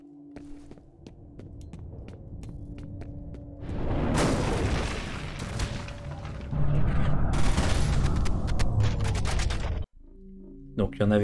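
Heavy bursts of gunfire and booming impacts in the horror shooter game F.E.A.R., building into a loud, dense stretch over a low hum before cutting off abruptly, with a voice speaking briefly.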